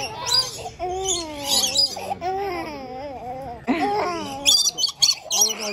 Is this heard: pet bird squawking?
yes